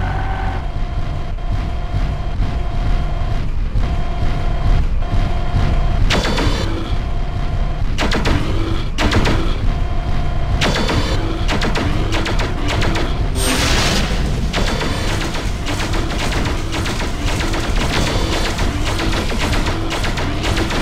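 A main generator is destroyed by mech fire in Mechwarrior 4 Mercenaries: repeated heavy weapon impacts and booming blasts over a constant mechanical drone, building into a larger explosive burst partway through.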